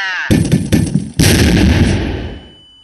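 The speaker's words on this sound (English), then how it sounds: "Flashbang." A flashbang grenade goes off in a video game on an airship: a few sharp cracks, then a loud, close bang that booms and fades out with a lingering high ring.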